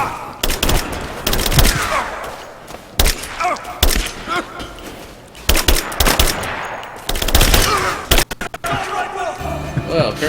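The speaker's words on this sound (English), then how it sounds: "apparently we've upgraded to AK-47s" AK-47 rifle fire in Rise of the Tomb Raider rings out in loud, rapid bursts separated by brief pauses, with heavy thumping impacts and players talking over it.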